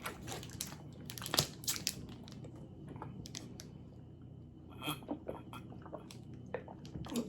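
Someone eats an Italian beef sandwich with pickles, chewing close up with soft moist squishes and occasional crunchy bites in an irregular rhythm, no talking.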